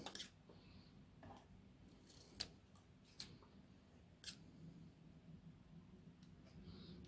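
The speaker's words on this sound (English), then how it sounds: "Let me cut a piece off." Scissors cutting a piece of material for a junk journal page edging: a few faint, close snips and clicks spaced over several seconds against a quiet room hiss.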